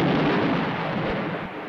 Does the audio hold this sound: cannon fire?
yes